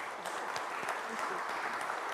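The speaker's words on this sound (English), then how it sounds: "I'd just like to give you a round of applause" Applause from the audience at a history conference session, steady even clapping with no voices, fairly quiet and heard as if from across a large hall.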